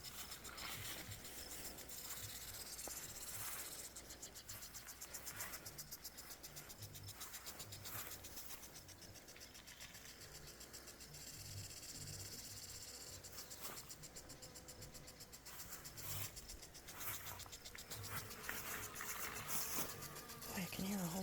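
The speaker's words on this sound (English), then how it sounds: "Oh, you can hear a whole bunch of bees right here." Bees buzz among carrot flower umbels in a July garden, a faint continuous drone that rises and falls as insects move close to the recorder, with soft voices talking at times.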